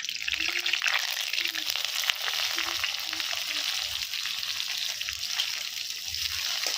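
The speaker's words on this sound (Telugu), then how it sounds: "అది కొంచెం వేగినాక ఉల్లిపాయ వేసుకుందాం." Onion and bay leaves frying in oil in a pot over a husk-fuelled stove, a steady close crackling sizzle that holds throughout, with faint speech murmuring underneath.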